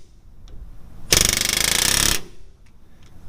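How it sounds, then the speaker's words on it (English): Air hammer hammering against a sleeve to push it out during a Duramax truck's CalTracs install: one loud, steady burst of rapid pounding lasting about a second, alone between quiet moments. "So we're gonna show you a little bit going on with air hammer action."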